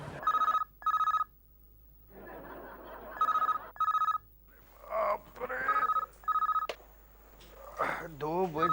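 A telephone bell rings in repeated double bursts of electronic trills, loud and close, while people talk between and over the rings, in a scene from a Hindi children's TV serial.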